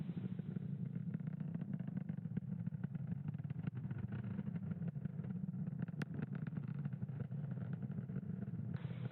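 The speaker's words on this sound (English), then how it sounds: "Falcon 9 has successfully lifted off from Space Launch Complex 40 from the Cape" Steady low rumbling roar of a SpaceX Falcon 9 rocket lifting off from Space Launch Complex 40 at Cape Canaveral, a constant broad drone with no talk over it.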